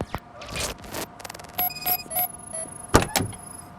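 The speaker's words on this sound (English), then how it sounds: "Pop the hood." A car's hood being popped open in the video game Robocop Rogue City, giving a few short clunks and scrapes with a faint mechanical whir, heard close and without any talk.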